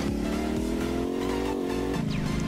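A monster truck engine in a video game revs and drones loudly and continuously, its pitch climbing steadily then dropping as it shifts, like a big motor pushed hard.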